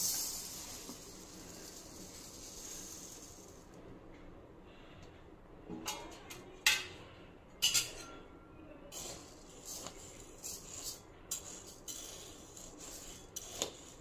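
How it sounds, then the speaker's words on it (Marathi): Rice being dry-roasted in a pan for bhajani flour: a steady soft rasping scrape, then sharper intermittent clinks and scrapes of a spoon stirring against the metal pan, close up, with no talking. "आता मी हे भाजून घेते। हेही लालसर असे भाजून घ्यायचे आहेत।"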